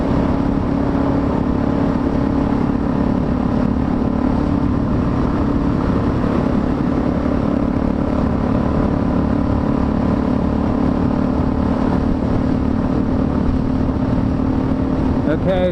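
A Suzuki DRZ400S motorcycle rides along a forest trail, its engine giving a steady, loud drone with no let-up, close to the listener, and wind rushing past throughout.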